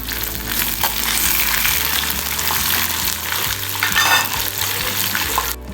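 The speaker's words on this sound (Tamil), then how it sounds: "கடுகும் இதில் காஞ்ச மிளகாவும் கருவேப்பிலையும் போட்டுருங்க." Mustard seeds, dried chillies and curry leaves sizzle and crackle steadily in hot oil for tamarind rice, a loud continuous fry with small pops and occasional stirring.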